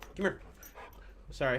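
A German shepherd whimpers and yips in short, soft bursts close by, mixed with a person talking quietly at home.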